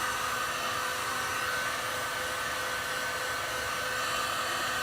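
A blow dryer blasts hot air steadily onto a wooden letter craft piece, a loud continuous whooshing roar with no break or change throughout.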